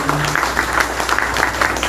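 At an agriculture and social agenda forum, an audience gives brisk applause for a speaker: a quick run of sharp, close handclaps at a fairly even pace, with a low steady hum underneath.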